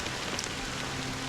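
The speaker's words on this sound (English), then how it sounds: "it's still raining" Steady rain patters on surfaces in a Honkai Star Rail scene, a dense, even hiss with no voices.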